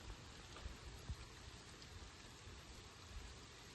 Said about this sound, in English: as soon as I get home it starts raining again